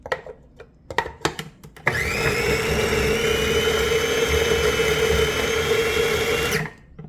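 A few handling knocks come first, then a blender grinds perilla leaf pesto in a loud, steady, high-pitched whir for about five seconds before spinning down.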